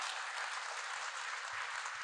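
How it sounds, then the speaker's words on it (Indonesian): A church congregation at a Christian sermon applauds, a steady, continuous wash of many hands clapping, fairly distant and even in level throughout. "Yang memegang mandat Allah, tepuk tangan buat dia."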